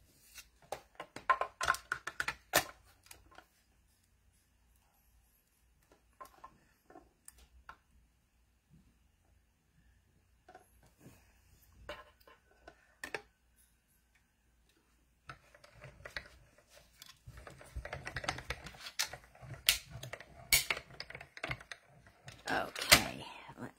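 A die cutting machine works through a craft piece for a teabag holder, giving sparse clicks and cranking bursts that grow busier and louder toward the end, with quiet gaps between.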